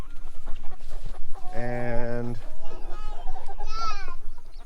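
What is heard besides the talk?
chickens clucking, Red Star and Bielefelder hens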